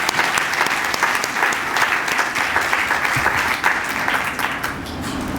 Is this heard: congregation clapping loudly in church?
yes